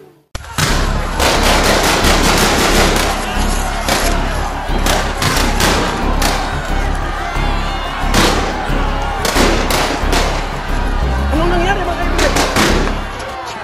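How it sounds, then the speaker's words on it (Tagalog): Staged gunfire in a school roleplay of a town uprising gives loud, dense crackling volleys of shots that continue almost without pause, with voices and crowd noise mixed in. "Patuloy din ang putukan sa ating bayan."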